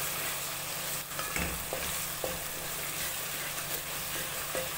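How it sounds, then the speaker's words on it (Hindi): Cumin, coriander, masala and salt fry in oil for a fish curry, a dense steady sizzle with occasional soft scrapes of a spoon stirring through the pan. "इसको अच्छी तरह भूनना है मसाले को"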